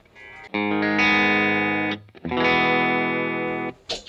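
A distorted electric guitar rings out in two sustained, heavily saturated chords, loud and close, with no voices.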